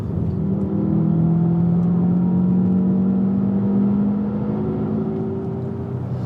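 An upgraded Subaru Legacy Spec B turbo with roughly 330 all-wheel horsepower accelerates hard, its loud engine drone climbing steadily in pitch for several seconds, with no talking.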